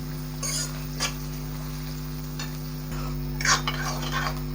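Onions, green chillies and curry leaves frying in a pan for mutton curry, with a low sizzle broken by a few scraping stirs of a spoon, close but fairly soft over a steady hum.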